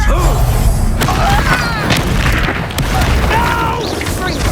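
Fire spell cast in the Hogwarts Legacy video game, a loud booming burst layered over a dense, busy battle mix of magical effects and clashing sounds.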